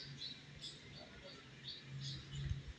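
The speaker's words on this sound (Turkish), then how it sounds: "Güzel sesli kuşlar bak." Faint high chirps repeat over a steady low hum and background noise, small birds calling softly at a distance.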